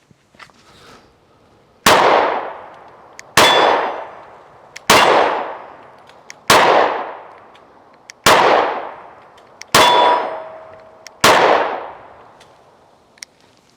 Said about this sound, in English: I'm hitting still with it